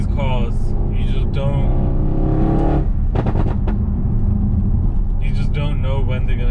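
An Audi RS6 accelerates hard, its engine note rising in a loud, sustained pull with a couple of brief gear-change breaks, while a voice talks over it near the start and end.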